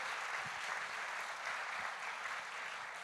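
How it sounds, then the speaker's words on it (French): Applause from an audience for a team taking a final bow at a school theatre competition, a steady wash of many hands clapping, moderately distant and unbroken. "On va applaudir l'équipe de l'Épide de Dunkerque une dernière fois."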